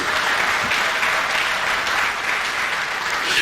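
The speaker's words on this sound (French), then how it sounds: "Applaudissez le panel, s'il vous plaît" Audience at an African culture day event applauding a panel, loud dense clapping sustained throughout with no speech over it.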